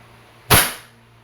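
A single sharp shot from a Crosman SR 357 airgun revolver fired single action through a chronograph, one close, loud crack with a quick decaying tail in a quiet room.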